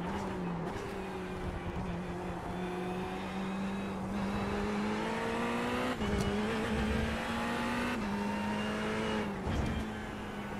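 A new Ferrari race car in a racing video game, its engine holding a steady high drone with rises and dips as it shifts and revs, loud and continuous.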